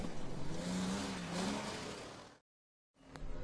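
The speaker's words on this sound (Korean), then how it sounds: "리즈의 과감하고 화려한 운전 실력으로 드디어 이 지옥 같은 곳을 탈출하고 맙니다." In a film about an Australian serial killer, a car escapes at night with a loud engine roar that rises in pitch, then cuts to a brief silence before engine noise returns.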